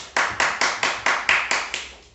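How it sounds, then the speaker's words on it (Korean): A church congregation at a Sunday worship service claps together in a steady rhythm of about nine evenly spaced claps, loud and near, with no talking over it. "박수 쳐주세요."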